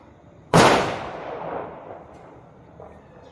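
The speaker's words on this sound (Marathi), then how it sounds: "दिवाळी संपली तरी अजून फटाके वाजवायचे बंद नाही झाले." A single sharp Diwali-season firecracker bang bursts outside, followed by a long rolling echo that fades, with a faint distant pop later.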